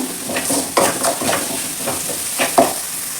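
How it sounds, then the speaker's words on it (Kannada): Spices with turmeric powder and salt fry and sizzle in a pan as a spoon stirs, with repeated scraping strokes and a few sharper clinks against the pan over a steady hiss. "ಇದನ್ನ ಫ್ರೈ ಮಾಡಬೇಕು"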